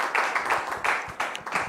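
An audience applauds a guest in a live television studio with a modest, uneven patter of claps rising and falling in bursts.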